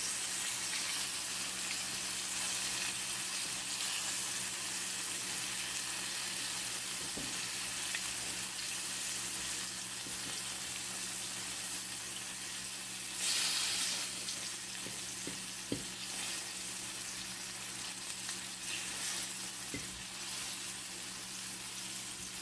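Leftover shrimp sizzle quietly in a frying pan as they are tossed, a soft steady hiss over a low hum, broken by a few faint clicks and scrapes.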